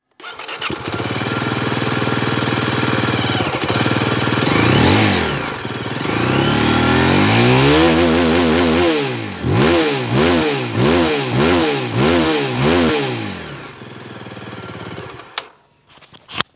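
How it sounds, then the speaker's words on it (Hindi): A Zontes GK 350 motorcycle engine idles, then is revved repeatedly in sharp rising bursts before cutting off, loud and close. "तो चलिए सुन लेते हैं एग्जॉस्ट कैसा है इसका।"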